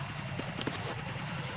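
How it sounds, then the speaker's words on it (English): A helicopter-like UAV drone in Metal Gear Solid 2 whirs with a steady rotor chop and a low engine drone, constant and fairly close. "¿Como un helicóptero?"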